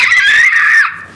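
A human voice imitates a dinosaur's call, one loud, close, high-pitched screeching cry held for under a second before trailing off.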